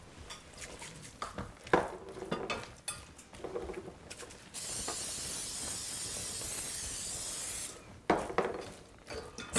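Cooking spray hisses steadily for about three seconds as it coats a casserole dish for a creamy chicken bake, set between light kitchen clatter and soft handling noises.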